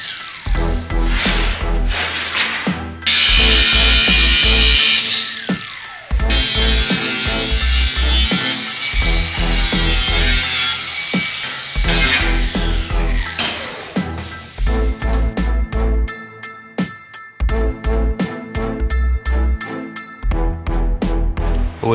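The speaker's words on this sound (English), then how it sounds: "let's get the corners cut off." An electric power tool cuts the corners off steel for a homemade motorcycle lift, loud and close, with bursts of high grinding whine broken by pauses and lower rhythmic pulsing between cuts.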